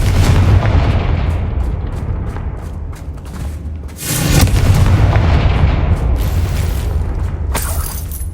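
A Confringo fire spell blasts in Hogwarts Legacy on PS5: loud, booming explosive bursts with crackling impacts, a heavy roaring blast midway and more rumbling detonations after, all with no talk.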